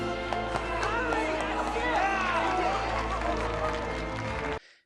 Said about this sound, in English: he's instantly greeted by cheers and applause.